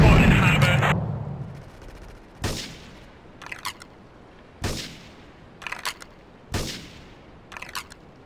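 Gunfire and explosions in Grand Theft Auto 3 at Portland Harbor: a loud blast opens, followed by three sharp bursts spaced about two seconds apart, each trailed by short crackling rattles, with no talking.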